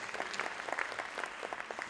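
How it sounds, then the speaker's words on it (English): An audience applauds steadily in a hall, with a dense wash of many hands clapping throughout and no break; the sound is moderately distant and fairly quiet. "Can you give him a big round of applause?"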